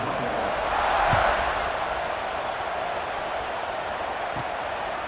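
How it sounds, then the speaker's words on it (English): Stadium crowd in the EA Sports College Football 26 video game, a steady broad roar of cheering fans that swells slightly near the start and then holds at an even level throughout. "this crowd now ready to get behind them"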